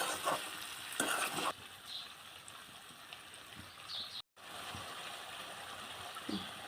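Ivy gourd and potato curry being stirred in a pan with salt and turmeric, a steady close scraping and soft sizzle, with a louder burst of stirring early on and a brief gap near the end.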